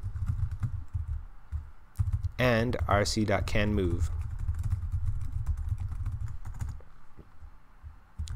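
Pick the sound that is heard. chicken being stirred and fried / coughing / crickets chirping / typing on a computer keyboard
typing on a computer keyboard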